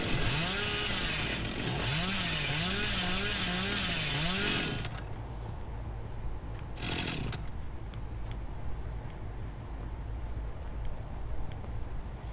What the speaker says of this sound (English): Chainsaw's really good now.